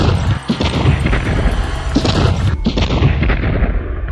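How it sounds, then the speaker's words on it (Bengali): Gunfire sound effect during a violent raid on a house: loud, dense booms and cracks rolling continuously for about four seconds, with heavier blasts near the middle and no voices. "চারিদিকে তখন শুধু গুলির শব্দ"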